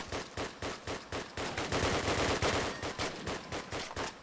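Rapid, regular gunfire bursts in a competitive first-person shooter match, roughly a dozen sharp shots spread evenly across the moment with a denser flurry in the middle, loud and close, no talking.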